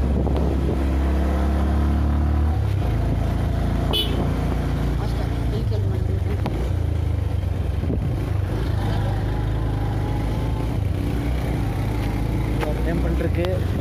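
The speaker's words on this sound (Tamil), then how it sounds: "நம்ம வண்டி தேர்ட்ல ஏறிச்சுமா" A vehicle engine labors uphill in third gear on a mountain road, a steady low drone with wind rumble throughout as people talk over it.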